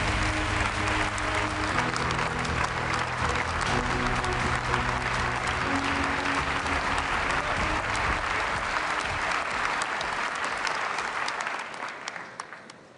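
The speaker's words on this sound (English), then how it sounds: "join me in giving her a warm and enthusiastic welcome with a big round of applause" Sustained, dense applause from a large crowd at a political party congress in Valencia, welcoming Ursula von der Leyen; steady and loud throughout before tapering off slightly at the end.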